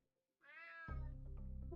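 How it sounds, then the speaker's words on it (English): A cat in a video game gives one clear, drawn-out meow that rises and then breaks into a louder, throaty yowl, close and alone with no talk over it. "Damn cat."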